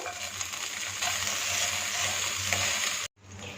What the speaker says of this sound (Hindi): लहसुन को सिर्फ गोल्डन कलर में आने तक फ्राई करेंगे। इसके साथ ही इसमें मटर शामिल कर देंगे